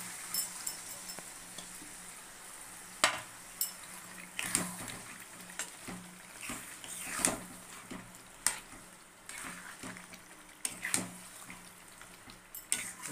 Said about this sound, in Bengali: তো এবার আমি এখানে চিকেনটা অ্যাড করে দেবো